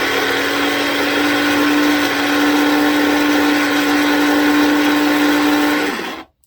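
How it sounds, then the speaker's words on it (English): A small electric herb grinder whirs loudly and steadily for several seconds, then cuts off abruptly. "This little grinder, you can use any kind of coffee or herb grinder."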